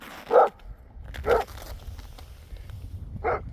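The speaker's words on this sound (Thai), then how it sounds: "เห่าแหละ" Outdoors on a clear day, a dog gives three short, sharp barks spaced about a second apart. They sound mid-distance against low background rumble.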